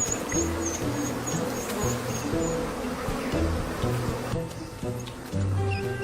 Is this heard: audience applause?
no